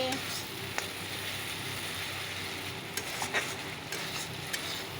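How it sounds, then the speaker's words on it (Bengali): Spice paste frying and being stirred in a pan, an even sizzling hiss with occasional scrapes of the spoon. "চলো মশলাটাকে একটু কষিয়ে নিই ভালো করে"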